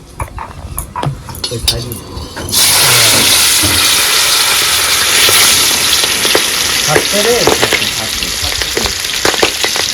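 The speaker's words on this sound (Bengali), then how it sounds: "এখন কিন্তু আমরা মাছ ভেজে নেবো।" Kan magur catfish dropped into hot oil, a loud sudden burst of crackling sizzle that stays strong and close after earlier quieter kitchen sounds, with bubbling spatters throughout.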